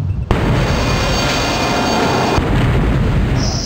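An underwater torpedo detonation in the 1995 submarine PC game Silent Steel: a loud, sudden burst that swells into a sustained, heavy rumbling roar lasting several seconds, with no talking.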